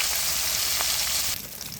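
Fish pieces fry in a pan beside rice, making a close, steady hiss and sizzle that drops noticeably quieter near the end, with no voices.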